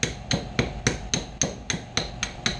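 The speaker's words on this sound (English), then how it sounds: "I had to get me a hammer. Chipping hammer will do it." A chipping hammer knocks a rolled burr off a steel winch, striking in a steady series of about ten sharp metallic taps at even intervals, close and fairly quiet, with no voices.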